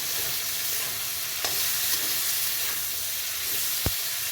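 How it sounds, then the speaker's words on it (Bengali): Ridge gourd goes into a shrimp and potato curry frying in a pan, giving a steady close sizzle and hiss with a few faint clinks and stirring scrapes. "এবার আমি ঝিঙেটা দিয়ে দেবো"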